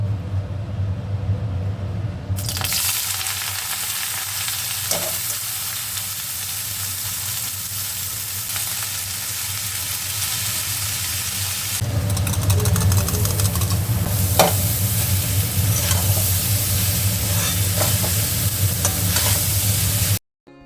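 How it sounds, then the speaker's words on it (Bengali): Leftover rice frying in a pan with beetroot, carrot, beans and onion gives a loud, continuous sizzle that swells noticeably halfway through as it is stirred, then cuts off abruptly at the end. "তো এই সবজি দিয়েই ভাতটা ভাজা করে ফেলবো"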